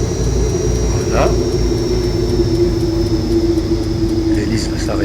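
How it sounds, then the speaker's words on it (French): A light aircraft's propeller drones steadily up close after the engine is switched off, its low hum and faint high whine easing slightly lower as it winds down, with a few brief clicks. "L'hélice va s'arrêter de tourner."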